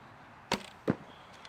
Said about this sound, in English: Goes right through that target, hits that backstop.